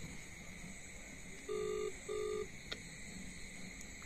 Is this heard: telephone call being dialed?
yes